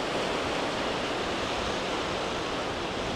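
Sea waves wash onto a beach at Cox's Bazar, a constant, even roar of surf with no breaks and no voices.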